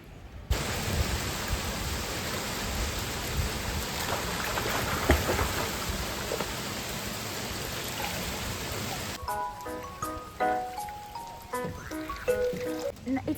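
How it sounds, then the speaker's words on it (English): Steady rain falls at a beach resort, a dense continuous hiss of drops that fills the scene, then gives way near the end to quieter, clearer sounds. "It started to rain"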